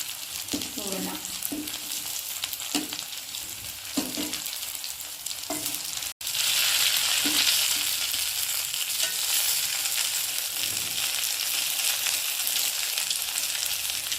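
Sambar bonda deep-frying in hot oil, a steady crackling sizzle throughout with a few soft stirring knocks early on, growing denser and louder partway through, no talk.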